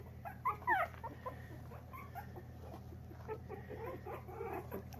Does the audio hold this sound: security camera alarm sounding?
no